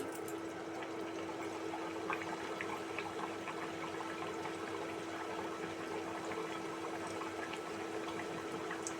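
A pea-stuffed kachori fries in a pan of hot oil with a quiet, continuous crackling bubble, soft fine pops over a low steady hum and no talking.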